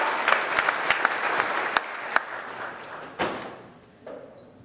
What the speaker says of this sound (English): Let's make some noise for all of these guys.